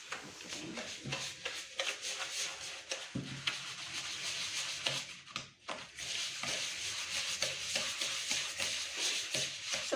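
White and brown sugar are creamed by hand in a bowl. Faint, continuous gritty rubbing and scraping strokes repeat in a quick, uneven rhythm, close by and quiet.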